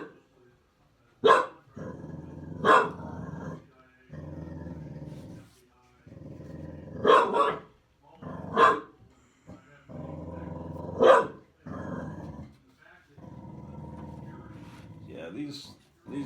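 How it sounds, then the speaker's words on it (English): Indoors, a dog barks sharply several times at irregular intervals, with low growls mixed in, breaking through a person's ongoing talking nearby. "What are you barking at,"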